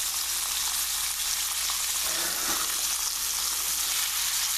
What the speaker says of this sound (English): the butter is browning a little, but not burning as much